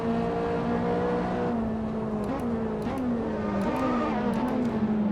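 In the Assetto Corsa racing game, a Ferrari 458 Trofeo race car engine bounces on the rev limiter and shifts through gears, a sustained loud whine with repeated stepped pitch drops and short clicks.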